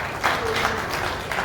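Brief burst of audience applause at a stand-up comedy show, fairly loud clapping blended with a host's voice over it.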